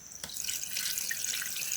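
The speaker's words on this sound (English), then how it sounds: "we need to rinse it thoroughly and then discharge it" Pond water from a catfish pond rinsing through a sample container, a steady close splashing and trickling flow that runs continuously throughout.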